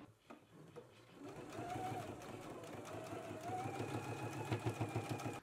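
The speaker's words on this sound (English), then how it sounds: "we can go ahead and stitch in a 5/8 of an inch seam allowance" Sewing machine running steadily as it stitches a 5/8-inch seam allowance on a McCall's M8449 garment, a continuous close mechanical whir with rapid needle rhythm that speeds up toward the end.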